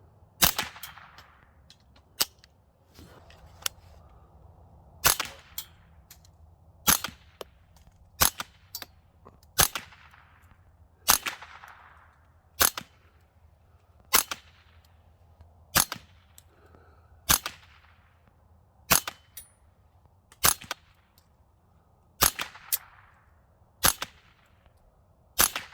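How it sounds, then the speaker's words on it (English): Supersonic .22 LR rounds fired from an 8-inch-barrel AR fitted with a 3D-printed suppressor, striking a steel plate: about sixteen sharp, loud cracks at irregular one-to-two-second intervals over a low background hum. "8-inch barreled AR platform, shooting a steel plate. 22 long rifles, supersonic."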